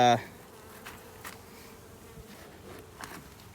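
Honeybees hum in a steady, dense drone from a hive, close and continuous, after a short electronic beep at the start.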